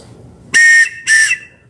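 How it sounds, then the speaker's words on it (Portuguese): Safety whistle on a Nabaiji OWS500 open-water swim buoy, blown twice in quick succession: two loud, shrill bursts, each about a third of a second, close by, with no talking. "ela tem um apito aqui, ó, que você pode chamar"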